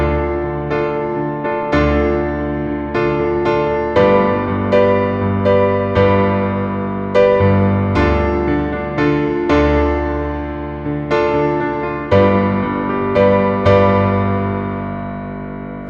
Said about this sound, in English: if you play the chords in the root position, sound like this.